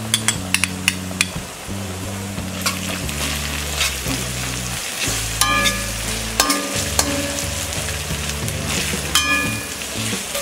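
Onions, ginger and garlic fry in a pan for bhindi masala, with steady sizzling broken by repeated clanks and scrapes of a spoon stirring against the pan, close and alone.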